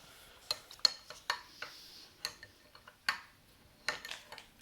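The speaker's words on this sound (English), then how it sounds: "I'm trying to break it up with a spoon" A spoon breaks up moon tablets for a general science experiment, giving a string of sharp, close clinks and taps at an irregular pace, with quiet pauses between them.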